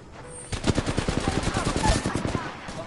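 Rapid automatic gunfire in a video game, a fast run of sharp shots close and loud, starting after a quiet half second and continuing steadily to the end.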